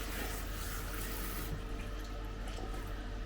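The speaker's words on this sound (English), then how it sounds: "Just wash it off. Okay, there you go, dripping wet." Tap water runs steadily into a kitchen sink as corn on the cob is rinsed under it, a continuous loud hiss and splash with no speech.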